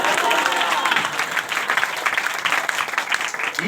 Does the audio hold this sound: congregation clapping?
yes